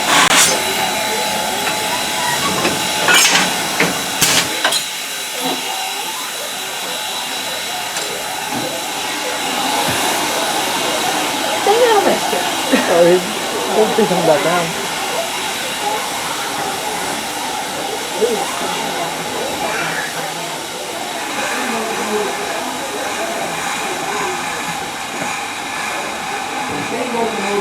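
Continuous loud hissing of steam locomotive Strasburg Railroad 475, with bursts of venting and people talking nearby throughout.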